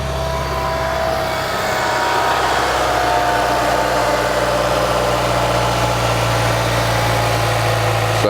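Honda Civic Type R EP3 fitted with a 4-1 exhaust manifold, its engine starting then settling into a smooth, steady idle with a constant low hum and no ticking, close and loud throughout.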